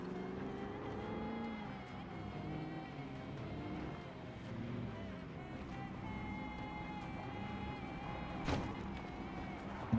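An armored car in Project Zomboid, towing a trailer, drives with a steady low engine drone that stays moderately loud and constant, with a brief knock near the end.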